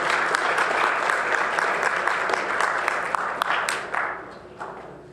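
Applause from the public gallery at a Palo Alto city council meeting, a dense steady patter of many hands that holds for several seconds and then thins and fades toward the end.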